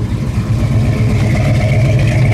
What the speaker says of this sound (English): rev it up a little bit out the back